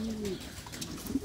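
Pigeons, a Horseman pair, give a brief low coo close up, a short throaty burble with light rustling around it.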